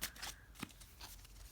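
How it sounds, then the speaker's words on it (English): A deck of cards riffled and shuffled by hand, two quick bursts of crisp flapping close to the mic, then softer handling. "so I'm shuffling them again"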